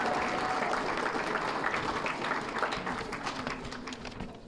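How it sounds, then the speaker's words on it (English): Applause from the crowd at a victory celebration for the Lackawanna County Commissioner race, a moderately distant, fairly steady wash of clapping that fades slightly toward the end. "give her a round of applause"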